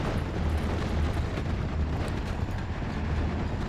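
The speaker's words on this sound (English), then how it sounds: "I might get these mortar shots off" Mortar fire in the WWII strategy game Steel Division: Normandy 44, a continuous rumbling wash of booms and distant blasts with no clear single shots, steady and fairly loud throughout.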